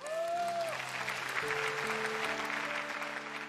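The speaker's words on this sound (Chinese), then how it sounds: "我们给他们掌声好吗？" An audience claps for a group of blind children from a Tibetan school on a televised stage show. The steady, full applause runs throughout, layered over sustained background music.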